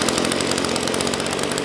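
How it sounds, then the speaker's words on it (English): Echo BRD 280 brush cutter's 28cc two-stroke engine running after a warm start, a loud, close, steady high-pitched buzzing whine with a fast, even rhythm and no talking. "I'm going to let you hear this 28cc engine roar"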